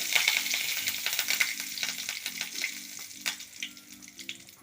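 Dried red chilli and curry leaves frying in a pan for a sardine thoran: a moderate crackling sizzle with scattered stirring clicks and scrapes, no talking, fading slightly toward the end.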